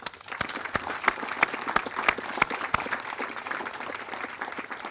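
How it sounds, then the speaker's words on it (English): Audience applause at a military brigade change of command ceremony, a steady wash of many hands clapping with sharp individual claps standing out, sustained throughout. "I'd like to give a round of applause to the band and the firing party for their outstanding performance this morning."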